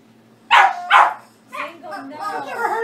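A dog barks twice in quick succession, fairly loud and close, followed by softer whiny yips and vocal sounds.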